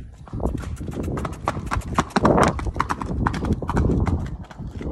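A horse loping with steady, rhythmic hoofbeats clip-clopping close by, loud and continuous with no talk over it.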